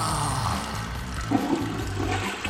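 A toilet flush sound effect rushes and gurgles continuously for a couple of seconds, loud and close with a churning watery roar.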